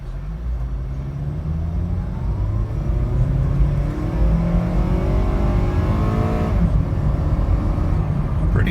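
A 2011 Honda CR-V with a four-cylinder engine and automatic transmission, nearly a quarter million miles on it, accelerates steadily on a test drive, its engine note rising through the gears in a continuous close rumble with no talk.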